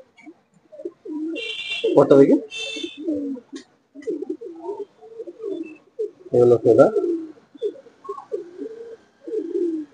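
Pigeons in a loft, Malwai birds kept for sale, give soft low cooing calls in repeated bursts, close by, with two louder flurries of flapping or scuffling and someone talking briefly over them.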